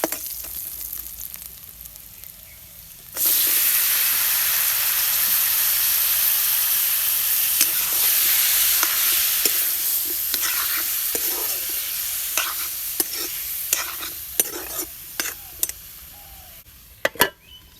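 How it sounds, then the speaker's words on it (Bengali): Boal fish curry sizzles loudly in a pan as it is fried and stirred, a continuous hiss starting after a quieter moment, with scattered scraping and clacking stirring strokes. "এই যে তরকারি রান্নার টেকনিক দেখেন মাছের জল দিয়ে কষালে তেমন তরকারির ভিতরে ভিতরে ঢুকে যাবে"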